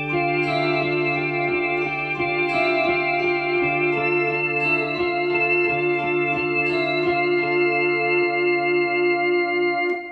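An electric guitar plays through an effects pedal set to its compact setting, giving a dense, chorused, slightly distorted sustained tone with faint echo, steady chords held for about ten seconds, close and alone.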